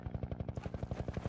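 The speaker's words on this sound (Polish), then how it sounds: "To helikopter." A helicopter in the Garry's Mod video game, its rotor giving a rapid, steady thumping chop that stays close and even throughout, with no talk.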